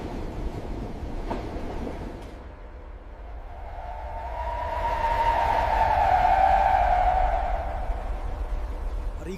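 A train, the Zanetti ghost train, runs with a low, continuous rumble that swells louder through the middle and then eases off, heard alone without talking.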